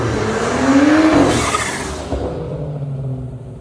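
A 2015 BMW F10 535i tuned to Stage 2 on E85 fuel, loud engine revving up and then falling back as the car passes close by, with a brief tire squeal.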